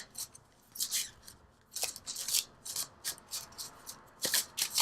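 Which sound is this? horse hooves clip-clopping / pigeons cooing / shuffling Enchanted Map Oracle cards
shuffling Enchanted Map Oracle cards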